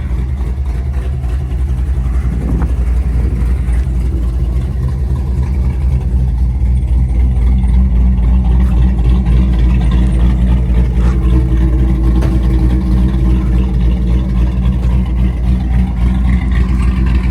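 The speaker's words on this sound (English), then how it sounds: "Good strong running car." A 1963 Chevrolet Impala SS convertible, customised, runs steadily with a loud, close, deep rumbling engine note and no pauses throughout.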